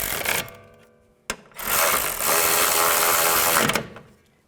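A ratchet snugs down the bolts on a car's front strut assembly, a Chrysler 200 from 2011–2014. Loud, close mechanical clicking comes in bursts, pauses briefly, then runs in a long steady stretch before fading out.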